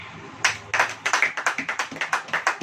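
Church congregation clapping hands after a Hindi sermon reading, a run of roughly a dozen sharp, fairly rhythmic claps close by, starting after a brief pause and keeping a steady beat to the end.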